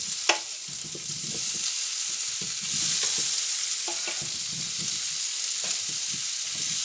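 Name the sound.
potatoes sautéing in a pan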